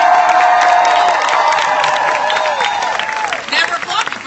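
An outdoor Renaissance festival audience claps and cheers steadily, a dense crowd roar with scattered whoops that fades slightly toward the end, while a voice speaks faintly over it.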